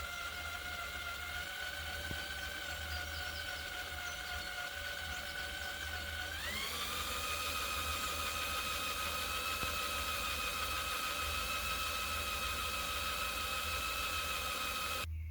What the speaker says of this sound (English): Got the drill on a slow setting, got some oil in the hole.